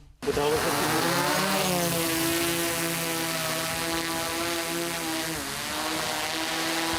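A reconnaissance drone starts up and climbs above the fields of the Donetsk region, its motor buzzing loudly and steadily with a droning propeller whine that holds from start to finish.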